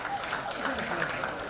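Applause from an audience at a Hindi comedy poetry performance, a faint, steady wash of clapping throughout with some murmur underneath.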